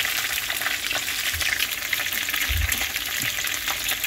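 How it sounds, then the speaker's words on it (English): Seasoned snapper and yellowtail fish fry in hot oil for Jamaican escovitch, giving a steady, dense sizzle with a few low thumps and knocks, close and fairly loud throughout with no talking. "So I'm gonna let these fry until they're golden brown before turning them"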